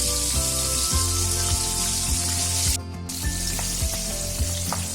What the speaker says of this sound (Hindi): तो अब इसे थोड़ा गोल्डन ब्राउन कर लेते हैं पलट पलट करके।